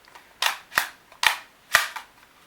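A toy HK USP radish pistol launcher fires four crisp, sharp cracks spaced about half a second apart, close and loud in an otherwise quiet room.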